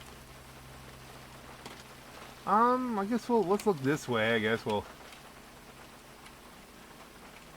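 Steady rain falls in GTA 5 Online, a soft, even hiss running through the whole stretch, while someone talks briefly over it in the middle.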